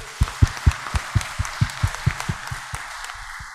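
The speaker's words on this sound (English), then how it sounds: "Can we give the Señor a clap offering?" A church congregation at a farewell Mass in a chapel claps together in a steady rhythm, about a dozen sharp, even claps that grow slightly softer toward the end, with no talking.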